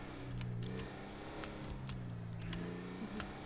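A truck engine revs in a roleplay driving video game, a steady mid-pitched motor hum with mild swells in throttle, heard faintly in the background at low level.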